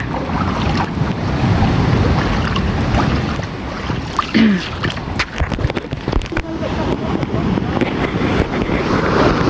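Sea waves washing in at the shore at high tide under gusty wind buffeting the microphone, a steady loud rush with a brief faint voice.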